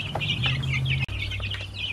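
Chickens cluck and chirp inside a brooder on a Georgia homestead, with short bright calls over a steady low hum, briefly broken by a sharp click halfway through; no voices.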